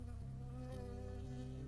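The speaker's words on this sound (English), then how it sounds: "I got stung by a bee." A bee buzzes steadily in the Firewatch video game, a droning insect hum with a slight wavering pitch, quiet but continuous and alone.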